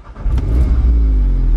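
An Audi engine starting up, cranking into a loud rev that settles into a steady, deep idle close by, with no talking.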